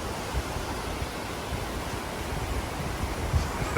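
Broad, steady roar of rushing water from Malang Waterfall in Asia, constant and fairly close, with no voices.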